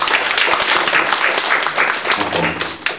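An audience at a talk in Surat Thani breaks into steady, fairly loud applause, many hands clapping together in a bright continuous patter, with a voice creeping in faintly toward the end.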